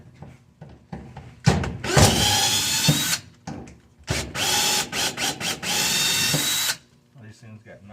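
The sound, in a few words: power drill removing plate from 1959 Ford F100 steering column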